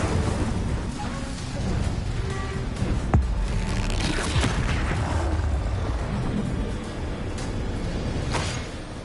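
Spell blasts and explosions erupt in Hogwarts Legacy combat, a dense string of booms and impacts over constant rumbling game noise, with no talking heard.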